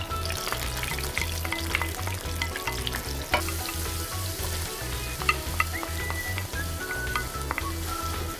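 Onion fries in scallion oil that was used to cook snow crab, with a steady, close crackling sizzle broken by scattered pops and light stirring clinks.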